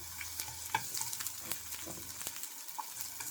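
Green pepper sautéing in a hot pan, a steady broad sizzle with scattered clicks and scrapes of stirring, close and fairly quiet, with no voices.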